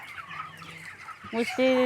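Chickens on a raised-floor poultry farm give short clucks near the end, close and fairly loud, after a quieter stretch of faint background murmur.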